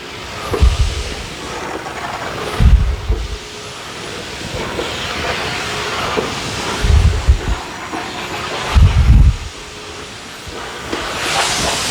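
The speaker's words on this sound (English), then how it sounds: "Now we're producing some steam." A steam mop on a floor hisses steadily as it produces steam, a broad airy hiss broken by several low thumping bursts at irregular intervals, close and fairly loud with no talking.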